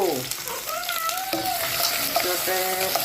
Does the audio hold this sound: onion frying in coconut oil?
yes